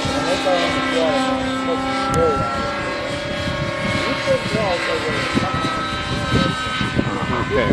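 A Synergy N9 RC helicopter flying overhead, a loud sustained turbine-like whine with rotor chop and shifting pitch as it manoeuvres, with excited shouting mixed in.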